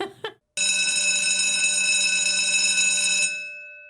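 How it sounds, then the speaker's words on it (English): An electric school bell rings loud and steady for about three seconds, a sustained metallic clang that cuts off abruptly, preceded by a couple of brief faint sounds. "That sound that we hear is the school bell"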